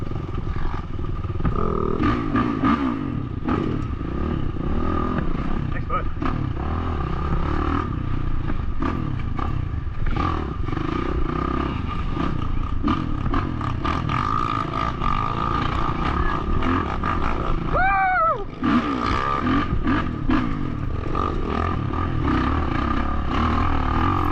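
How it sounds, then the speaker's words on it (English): Dirt bikes racing a hare scramble at Wolf Rock Raceway, engines snarling and revving continuously nearby, with overlapping bikes passing and a steady roar throughout. "I love seeing any and every bike you can imagine out here racing this series"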